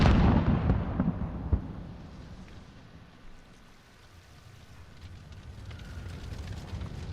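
Spawn tube grenade launcher firing in Modern Warfare: a loud, low booming burst at the start and a sharp thump shortly after, then a quieter rumbling ambience that swells slightly near the end.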